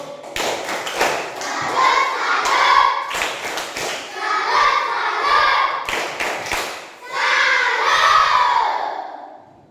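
A class of pupils doing a rhythmic 'tepuk satu' group clap in a classroom, bursts of sharp, loud, close claps in patterned groups alongside children's shouted chanting voices.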